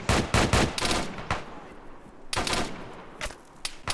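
Rapid gunfire in the military shooter Arma during a squad assault on a compound: loud clustered bursts at the start, a sparse lull, then another volley mid-way and scattered shots near the end, with faint voices in between.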